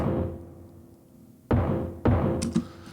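Layered percussion sample blending a mechanical keyboard click with three different hand drums, one of them high-pitched, struck as three close, dry hits that are loud and bright, with no voices.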